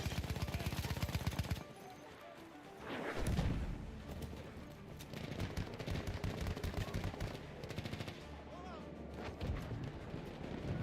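Gunfire in Battlefield 1, rapid bursts of automatic weapons fire mixed with heavier single shots and battlefield rumble, loud and close throughout, with a few calm stretches between volleys.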